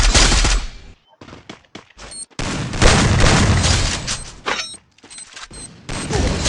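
Loud, close grenade explosions in the video game Free Fire, with bursts of gunfire-like booms in quick succession and brief gaps between them.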